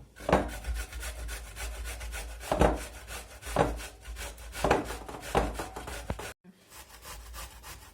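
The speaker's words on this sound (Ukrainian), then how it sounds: "На таку тертку починаємо терти кабачки." Young zucchini with the skin on rubbed over a hand grater, rhythmic rasping scrapes at about one stroke per second, close and clear, ending with a short pause and a soft knock.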